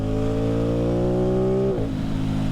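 An Aprilia Tuono 660 motorcycle with an aftermarket exhaust, its engine note rising steadily as the throttle is rolled on, then dropping abruptly near the end; loud and close, with no talk.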